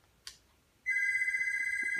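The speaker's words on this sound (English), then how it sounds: "Oh, the phone's ringing." A brief click, then a telephone starts ringing loudly with a sustained electronic trill that continues to the end.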